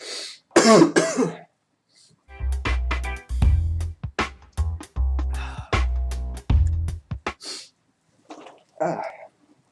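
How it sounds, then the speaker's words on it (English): Repeated harsh coughing fits, several bursts in quick succession with short gaps, close and loud, with a few throat sounds and breaths. "Can't stop coughing."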